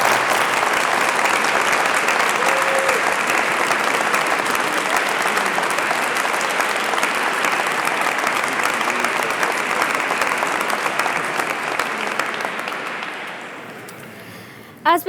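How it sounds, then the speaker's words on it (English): A large audience at a faith and belief community awards ceremony in Westminster Abbey applauds steadily and loudly, a dense sustained roar of clapping in a reverberant hall that tapers off near the end. "we want to give you all a huge round of applause"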